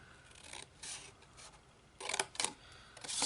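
Scissors snip into scored card stock with a few short crisp cuts and light rubbing of paper between them, close and fairly quiet, with no talking.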